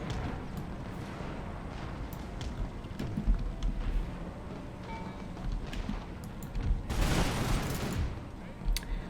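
Musket volleys in Empire Total War, a Napoleonic-era battle in the Austrian Balkan campaign, crackle as scattered shots under a constant low battlefield rumble, with one dense burst of massed fire late on and a voice talking over it.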